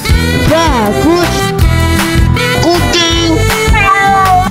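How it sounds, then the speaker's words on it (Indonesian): A cat meows repeatedly over busy background music, several drawn-out, bending cries one after another at close range. "Kucing."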